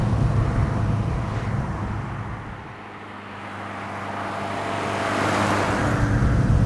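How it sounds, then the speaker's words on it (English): Steady in-cabin engine and road drone from a 1977 Autobianchi A112 small hatchback cruising at 60 mph, present but muted, with a brief dip in level midway before rising again. "The engine is present, but still relatively muted."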